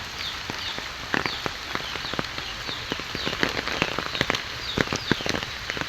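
Rain falling at Zinda Park near Dhaka, a soft, steady wash with scattered sharper drops pattering on nearby surfaces, fairly faint and continuous, with no voices.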